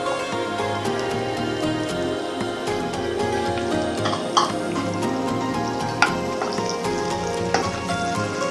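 Chopped onion frying in a pan, a steady dense sizzle heard up close with scraping stirring strokes and small clicks of the utensil throughout, no talk.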